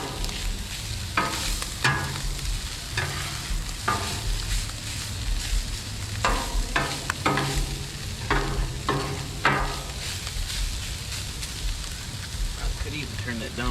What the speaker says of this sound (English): Mix this around a little bit.